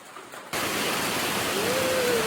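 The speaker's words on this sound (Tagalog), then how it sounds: "It's raining, oh. It's raining." Heavy rain starts abruptly and keeps pouring in a dense, steady hiss that fills the air close by, with no talk over it.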